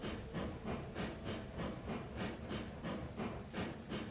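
Betsy, a steam locomotive in the Railroads Online video game, chuffs along in a steady rhythmic pattern of hissing steam exhausts, roughly three beats a second, even and moderately loud with no voices.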